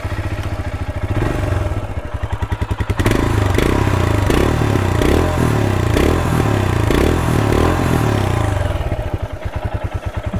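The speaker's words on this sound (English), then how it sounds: "Let's bring the thumper to life. Oh, the classic sound of a thumper." A 2022 Royal Enfield Himalayan single-cylinder motorcycle engine cranks with a rapid starter clatter, catches and settles into a loud, steady, close thumping idle, then the starter-like chatter returns near the end; no talking.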